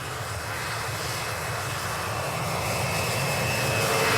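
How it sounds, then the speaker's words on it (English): Antonov 74 airplane engines roar steadily on an Arctic ice runway, a loud, broad, continuous rumble and hiss that grows slightly louder throughout, with no voices. "The Antonov 74 is specially designed to operate in the harsh Arctic climate."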